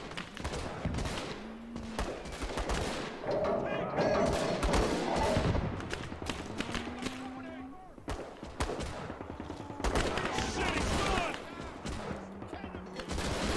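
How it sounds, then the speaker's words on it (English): A 75mm howitzer pounding Russian attackers in Gates of Hell, heavy booms mixed with scattered rifle and machine-gun fire, a continuous loud battle din with shouting voices layered throughout. "This 75mm howitzer is pounding the Russian attackers"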